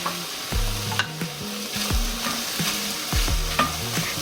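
Red and white onions with red pepper sizzle in a pan while being stirred, a steady crackling fry broken by repeated scraping strokes of the utensil, close and fairly loud.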